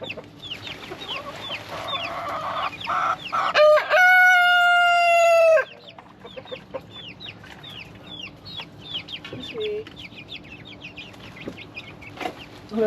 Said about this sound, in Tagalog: Pakainin muna natin itong mga alaga nating sisiyo dito sa kulungan.